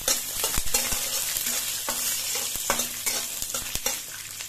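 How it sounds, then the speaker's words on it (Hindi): Garlic cloves sizzle in a pan of roasting curry leaves for a dry chutney, with constant frying crackle broken by repeated spatula scrapes and stirring knocks, close and moderately loud, no voices. "अब इस स्टेज पे मैंने ये जो लहसुन की कली ली हूं, इसे डाल दूंगी। इसे भी हमें एक मिनट"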